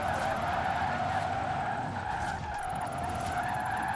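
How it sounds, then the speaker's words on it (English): An electric car drifting in Forza Horizon 4 gives a steady, sustained tire squeal with a high whine on top, loud and continuous for several seconds, no talking. "I am actually drifting this thing."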